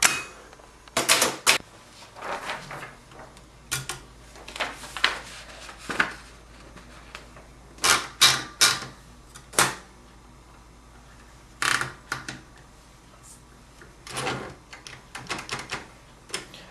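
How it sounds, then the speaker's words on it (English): A 1947 Remington No. 17 typewriter being worked at its ratchet, carriage and paper release levers, giving sharp close metallic clicks and clacks in irregular bursts with quiet pauses between. "This is your ratchet release, carriage release, and then over here we have the paper release."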